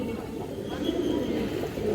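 A pair of old-breed Bagha pigeons coo in a low, steady murmur close by, the soft calls running together without clear breaks.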